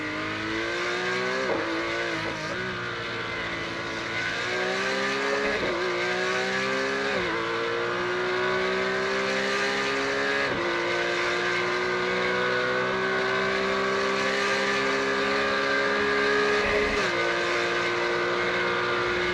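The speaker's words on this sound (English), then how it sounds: "Take a look at some of our last competitors coming around the track." Simulated Porsche race cars lap the Imola circuit in a racing game, engines revving up through gears in repeated rising whines with shifts, loud and continuous without talk.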